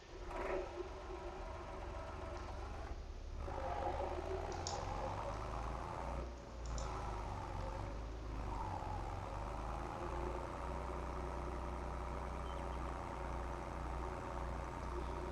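Tractor engine in Farming Simulator 22 runs at a steady idle, a continuous low hum with a buzzy mechanical texture, close and unbroken apart from a couple of brief dips.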